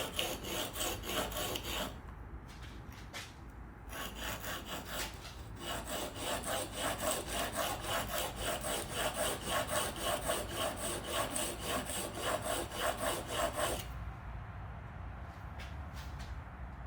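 An antique chisel held in a wheeled honing guide is pushed back and forth flat on a sharpening stone, a continuous rhythmic rasping with brief pauses before stopping near the end.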